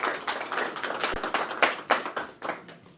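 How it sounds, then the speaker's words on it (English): Hands clap at a national consultation meeting on PBO regulations, with a burst of separate, fairly quiet claps that thin out over about three seconds. "Can we clap for the team?"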